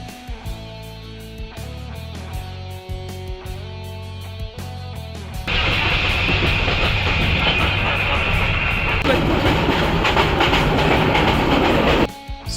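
A train arrives at a railway station on the route from Sylhet toward Srimangal, Bangladesh, its steady rumble and rolling wheel noise growing louder midway and continuing strongly before cutting off near the end, with no talk.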